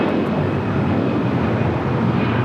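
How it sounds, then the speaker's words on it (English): An Air Canada Airbus A321 departs LAX for Toronto, and its engines make a steady, loud, broadband roar with a deep rumble underneath, constant throughout with no voices. "This is Air Canada 786 taking off to Toronto on an A321."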